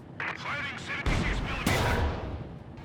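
A tank in Company of Heroes 2 fires heavy cannon rounds: two loud, booming blasts about half a second apart over rumbling battle noise, with a voice speaking underneath.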